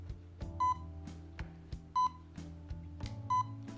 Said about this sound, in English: You guys can hear that beeping, right?